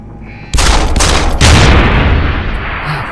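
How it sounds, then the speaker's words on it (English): Rapid machine gun fire in a video game, a dense close burst of gunshots that starts abruptly and rolls on loudly for a couple of seconds, with a second sharp volley partway through before tailing off. "that thing shoots 30 bullets in like less than 2 seconds"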